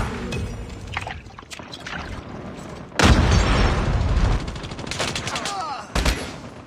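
Rapid gunfire rattles through a first-person shooter match, with bursts of automatic shots, a heavier volley midway and another near the end, mixed with game effects and in-game voice lines.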